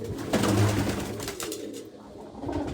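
Pigeons coo softly in a loft, low rolling calls up close at first and then fainter, with light rustling around them.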